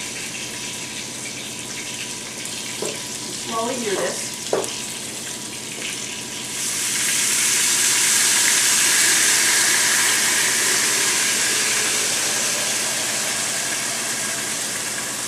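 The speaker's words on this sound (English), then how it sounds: "Now this is 28 ounces of crushed tomatoes that I'm going to add slowly." Twenty-eight ounces of crushed tomatoes poured slowly into a hot pan for basil meatball sauce, bursting into a loud, steady sizzling hiss that keeps going after a few seconds of quiet kitchen clatter and a brief spoken phrase.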